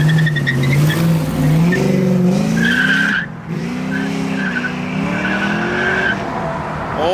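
A 1969 Camaro pulls away from a car meet, tires squealing in long wavering screeches over a loud engine roar, close by and sustained, with a brief dip midway before the squeal resumes.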